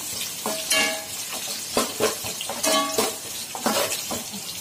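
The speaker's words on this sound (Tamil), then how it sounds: "நல்லா வதக்கி விட்டுக்கலாம். வெங்காயம் நல்லா வதங்கட்டும்." Onions and green chillies sizzle in a hot pan while a spoon stirs them, scraping and clinking in uneven strokes, close and steady.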